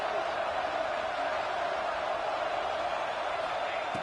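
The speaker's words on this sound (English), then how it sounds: "listen to this crowd noise. This stadium is vibrating" Stadium crowd noise in the College Football 26 video game, a constant dense roar of a packed crowd humming at even volume throughout, with no distinct cheers or voices standing out.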